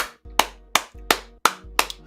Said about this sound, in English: I want to give you a round of applause